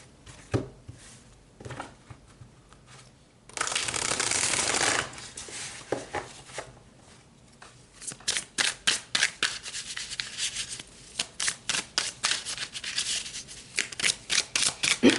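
Tarot cards are shuffled close up, first a soft riffle and a louder sustained burst, then a long run of quick, rhythmic card snaps and flicks, with no talking.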